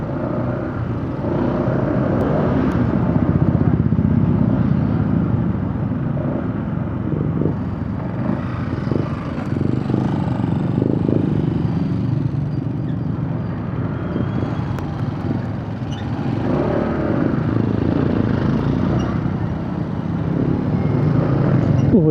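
A motorized tricycle driven by a woman on a road, with a continuous engine rumble holding steady and swelling slightly at times over the full stretch, fairly loud and close.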